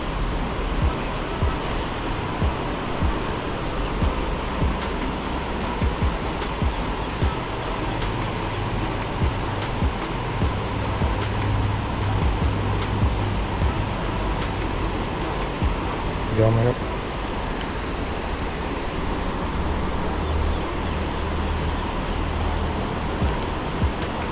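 Fast-flowing river water rushes beneath a bridge in a steady, loud broadband roar that runs unbroken for the whole stretch, with a few faint knocks on top.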